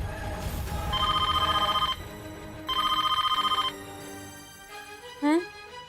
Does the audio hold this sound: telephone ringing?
yes